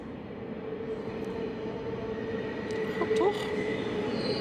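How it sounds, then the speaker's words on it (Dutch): A train pulls into a station, a steady rumbling roar of wheels and rail with a brief high squeal near the end, while a person speaks over it. "Oh mijn god, er komt de trein aan."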